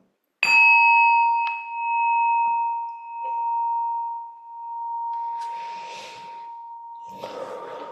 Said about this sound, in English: you'll hear the chime